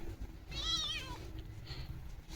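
Indoors, a cat gives one clear, drawn-out meow while eating chicken, heard over low, steady background noise.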